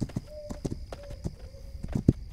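Horse hooves clip-clopping in the video game This Land is My Land, a few soft uneven hoof knocks at moderate distance over faint background ambience.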